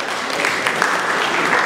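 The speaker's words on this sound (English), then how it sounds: "can we do that one more time with a round of applause?" An audience at a celebration event applauds in a steady, dense round of clapping throughout, fairly close and even in level.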